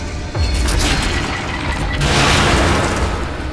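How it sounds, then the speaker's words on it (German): An explosive bolt detonates in the horror game The Evil Within, a loud, dense boom with crashing debris that swells again partway through and holds for several seconds. "Explosionsbolzen"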